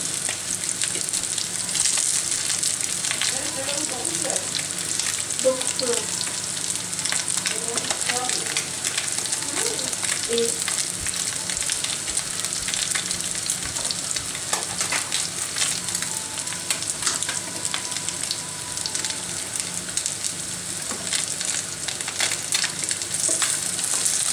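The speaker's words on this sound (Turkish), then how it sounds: "Şimdi diğer tarafını kızartıyoruz." Continuous sizzling of pandora (red sea bream) frying in hot oil, a busy crackling hiss with faint clinks and bumps, lasting throughout at an even level.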